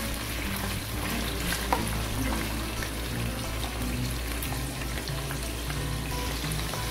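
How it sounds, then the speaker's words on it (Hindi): Mutton sizzles in hot oil with garlic and ginger, a steady crackling fry with occasional stirring, close but fairly quiet, with no talking. "तो फ्रेंड्स, हम उसी ऑयल के अंदर गोश्त को फ्राई कर लेंगे।"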